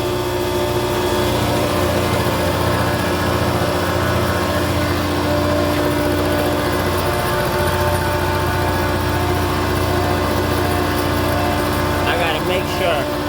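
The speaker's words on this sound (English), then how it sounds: "the pumps are on because that chiller is working" Chiller water pumps running in the plant room of a Trane RTWD chiller, a steady mechanical hum and drone that stays loud and constant throughout, with someone talking faintly over it near the end.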